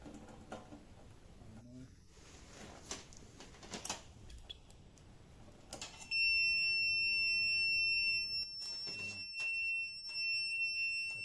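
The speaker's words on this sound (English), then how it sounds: "With this multimeter, if the resistance is under 30 ohms, it gives off a beep" A multimeter's continuity test gives a continuous high-pitched electronic beep that starts partway through and holds steadily, preceded by scattered clicks and handling taps, while checking a faulty oven.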